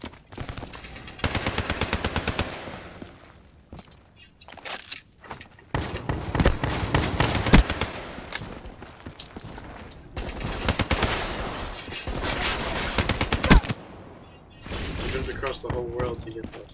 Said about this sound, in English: In the middle of a gunfight, you just jump in.